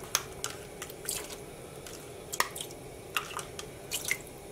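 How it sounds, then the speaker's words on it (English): Water from a dye pre-soak is added to a pan for overdyeing yarn, heard as scattered wet drips and small splashes in irregular bursts, fairly close but soft, with no talking. "I am going to add some more water from that pre-soak"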